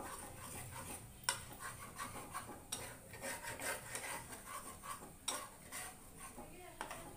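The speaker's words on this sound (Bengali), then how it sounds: "ডিমটা ভেঙে দিয়ে এবার ভালো করে নেড়ে চেড়ে দেব" Egg is stirred in a hot frying pan on medium heat, with repeated scraping and metallic clinks of a utensil over a low sizzle, fairly faint throughout.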